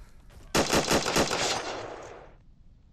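A loud, close burst of rapid automatic gunfire in a video game, about eight sharp shots in quick rhythm followed by a decaying echo tail.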